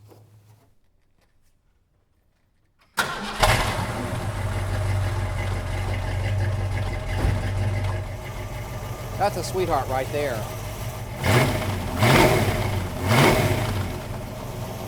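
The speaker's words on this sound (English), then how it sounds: "All right, I'll start it up and then we'll go listen to the exhaust." After a few seconds of near silence, the V8 engine of a 1966 Ford Mustang GT cranks and fires up, settling into a throaty idle with occasional revs while someone talks over it.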